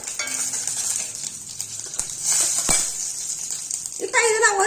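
Cumin, asafoetida and dried red chillies sautéing in a pan, a faint sizzle with a few utensil clinks and a sharp knock, and a voice speaking toward the end.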